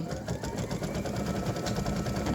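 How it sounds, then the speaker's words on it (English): A sewing machine, driven by a pressed foot pedal, stitches a loop with a rapid, even mechanical clatter. It is steady and close for the whole stretch, with no one talking. "put my foot down, and start stitching. Now this is going to stitch the loop"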